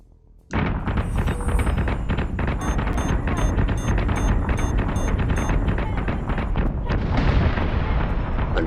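Missile explosions thunder continuously in the space combat game Battlestar Galactica Deadlock, a loud, dense barrage of booms and crackling bursts that erupts suddenly and rumbles on without pause.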